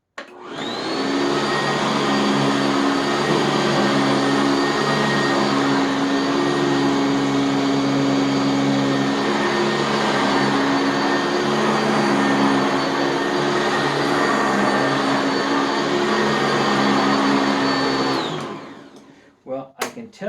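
A Sanitaire SC679K upright vacuum cleaner runs on carpet at height position 2, with a loud, steady whining drone that holds for about eighteen seconds before cutting off, followed by a few brief knocks.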